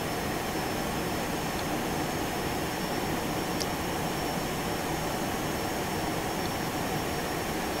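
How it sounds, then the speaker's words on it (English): Steady broadband roar of a single Boeing 737-200 jet engine in X-Plane 11 being brought up in power, a constant loud whine and rush with a faint high tone, no talk over it. "I'm going to start bringing the power up on our one engine."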